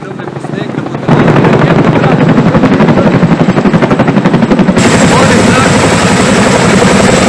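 A helicopter working over a landslide site with fallen trees near Luče thunders close overhead, its rotor chopping in a fast, loud, steady pulse.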